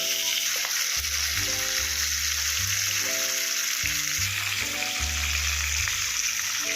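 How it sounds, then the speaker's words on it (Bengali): Fish fries in hot oil for a Bengali spicy fish curry with bok or kekle fish, making a dense, continuous sizzle and crackle close by, with a low musical bed beneath it. "মাছটা ভেজে নিয়ে ফিরে আসছি।"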